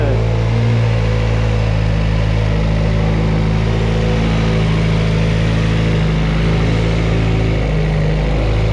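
A rebuilt Honda car engine runs loud and close for the whole stretch, holding a steady mid-pitched drone with a slight rise in revs but no sharp bursts.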